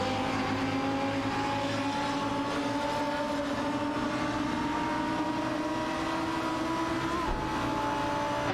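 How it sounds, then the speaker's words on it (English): A race car engine roars and whines continuously at high revs in an AI-driven racing video game, loud and steady with sustained tonal engine drone and no talk over it. "Racing car dashing away."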